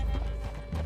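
A horse's hooves clip-clop in Red Dead Redemption 2, a few soft, close steps at an easy walking pace over a low ambient rumble.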